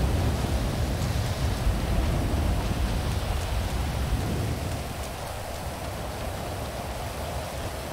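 Heavy rain in a video game pours down steadily as a dense, even hiss that eases slightly partway through, with no talking over it.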